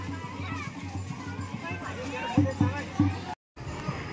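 Crowd noise at a village palanquin procession for Khandoba, a dense babble of voices and children's shouts with a few louder close bursts and a rhythmic low pulse underneath.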